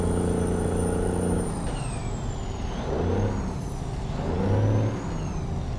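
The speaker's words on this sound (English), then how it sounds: "hear the engine revs" Ford LTL 9000 truck engine in American Truck Simulator revs up and down a few times, with a sharp air brake hiss at the start and steady diesel drone underneath, close and loud with no talk.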